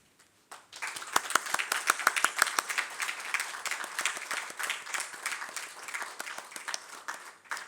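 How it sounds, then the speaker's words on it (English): Audience at a graduation ceremony for aviation college graduates breaks into sustained applause, many hands clapping steadily and fairly close, starting after a brief pause and continuing throughout. "give a huge round of applause for the graduates"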